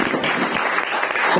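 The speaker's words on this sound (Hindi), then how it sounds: "इनके लिए आप तालियां बजाइए" An audience at a college finishing school inauguration program claps in steady, dense applause filling the short moment.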